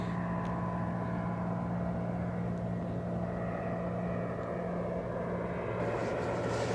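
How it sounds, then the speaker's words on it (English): A steady, droning propeller-plane engine hum fills the air as a small airplane takes off at the end of an airstrip by Loch Etive, fairly distant and continuous, with low wind rumble and no voices. "That's a wee airplane just taking off."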